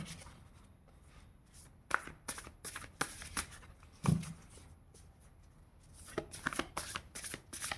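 Tarot cards shuffled by hand, close riffles and soft slaps in quick bursts with a brief thump midway, quiet room, no speech.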